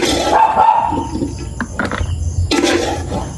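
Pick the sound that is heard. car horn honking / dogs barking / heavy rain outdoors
dogs barking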